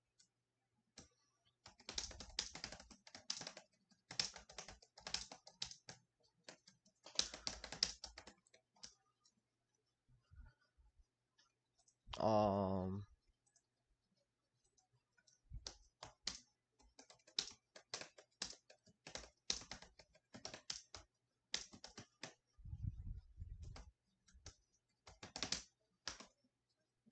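Bursts of quick clicking keystrokes on a computer keyboard, close and quiet, broken by pauses, with a short hum-like vocal sound midway and a low thump near the end.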